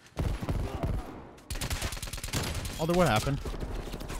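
Rapid gunfire bursts in Call of Duty: Black Ops Cold War multiplayer, loud and dense throughout, mixed with game sounds and a brief spoken voice near the start.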